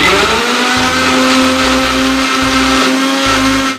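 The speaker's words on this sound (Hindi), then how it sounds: "अब इसको ग्राइंड करेंगे।" A kitchen mixer grinder blends musk melon pieces in its jar, a loud, steady high-pitched motor whine with a grinding drone running continuously for about four seconds before cutting off at the end.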